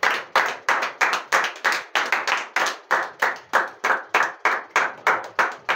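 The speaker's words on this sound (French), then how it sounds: "Est-ce qu'on peut applaudir le Seigneur Jésus?" A church congregation claps in steady rhythmic unison, about three sharp claps per second, loud and close, continuing throughout with no talk over it.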